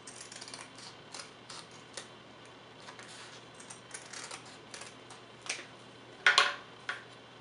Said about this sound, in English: I just want to take my scissors and cut a line up to a little bit below the middle